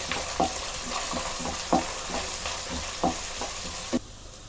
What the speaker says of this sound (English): I'm adding curry leaves to it, and I'm adding 1 onion. Let it get spattered.